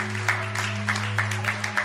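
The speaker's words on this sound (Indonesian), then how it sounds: "Kasih tepuk tangan paling dahsyat." Congregation applause during a church sermon, brief clapping over a steady low hum from the sound system, moderately quiet and even.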